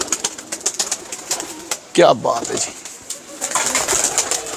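Show pigeons in Jhelum cooing nearby, a throaty coo rising mid-clip amid rustling and flutter, while someone speaks briefly.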